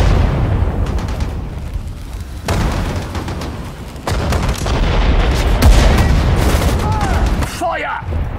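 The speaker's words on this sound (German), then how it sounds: "Artillerie! Feuer!" Artillery firing in Sudden Strike 4: repeated heavy cannon blasts and booming detonations roll through a dense wartime soundscape, loud and close, with spoken radio-style voices mixed in.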